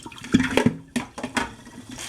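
A quick rinse of vegetables and fruits under running water: a couple of seconds of splashing, gurgling water with a few uneven bursts as the produce is moved through the stream.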